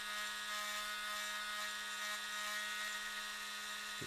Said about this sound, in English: you can take a smaller drill bit like so